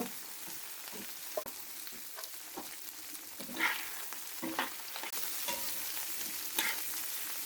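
Prawns fry in hot oil over a medium flame with a steady close sizzle, broken by occasional louder spits and stirring scrapes as the pieces are turned.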